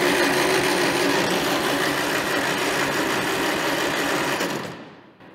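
An old Farmall tractor engine is cranked by the starter without catching, a steady loud mechanical whirring that holds for several seconds and then fades out.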